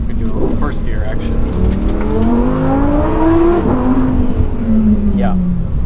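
A 2022 Lamborghini Huracan accelerates hard in first gear, its engine note climbing steadily in pitch for several seconds before easing off, loud and close with a little talk around it.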